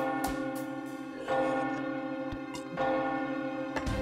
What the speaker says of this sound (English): That's a loud bell.